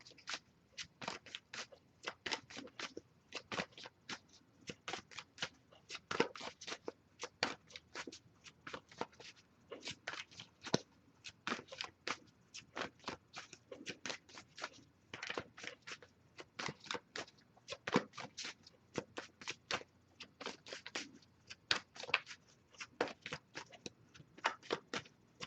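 An oracle card deck is shuffled by hand for a long stretch, producing dense, rapid riffling and flicking bursts in an irregular but steady rhythm, close and crisp, with no talking.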